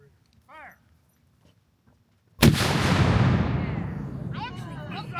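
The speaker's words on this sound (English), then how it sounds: "Fire the cannon." A ceremonial cannon fires a single loud, close blast at a battlefield commemoration ceremony, followed by a long rumbling decay. People talk faintly before the shot, and voices return as the boom fades.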